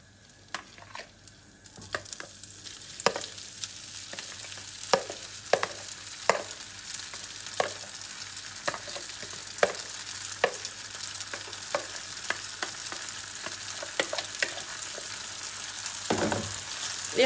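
Grated potatoes frying in fat in a pan over low heat, a gentle steady sizzle punctuated by repeated sharp scrapes and taps of a utensil spreading them, with no speech.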